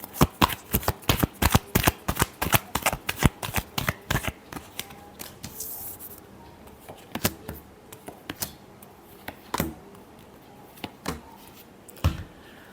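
Tarot cards are shuffled close by in a rapid series of crisp riffling snaps, which then slow to a few scattered slaps and flicks.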